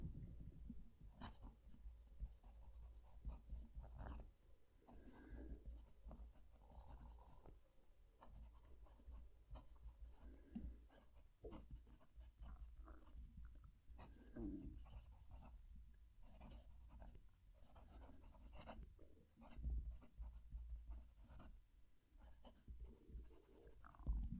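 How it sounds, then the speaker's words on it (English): A Visconti fountain pen nib scratches across paper in close, faint, irregular strokes, with low background rumble throughout. "I'm going to move the mic down to the page so you can hear the pen writing"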